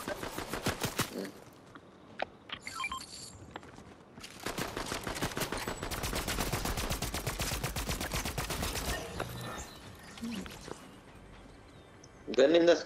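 Fortnite gunfire comes in rapid automatic bursts and single cracks, with long strings of fast repeated shots between short pauses, while a voice speaks at points.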